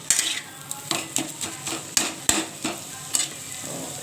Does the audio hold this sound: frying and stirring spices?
yes